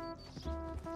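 A horse's hooves in Red Dead Redemption 2, a couple of soft clip-clop steps heard close over a low steady game ambience with no talk.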